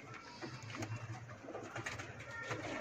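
Soft, low cooing of breeding pigeons repeats steadily nearby, layered over a faint murmur of other birds in the background.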